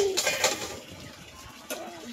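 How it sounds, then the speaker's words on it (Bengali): A myna bird calls outdoors in a village setting, with a few short, bright calls near the start and one more near the end over a soft background. "ও এটা কি ময়না পাখি ও ময়না পাখি"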